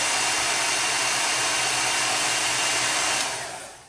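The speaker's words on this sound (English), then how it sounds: "the blow dryer blowing hot onto your transfer" A blow dryer blasts hot air onto a chalk transfer on a crafting pallet, a steady loud whooshing whir heard alone and close, tapering off as it switches off at the end.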